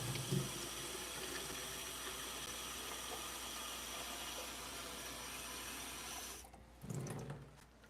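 A tap runs steadily into a container while water is fetched for seedlings, a constant close rushing that cuts off near the end and leaves a few faint knocks.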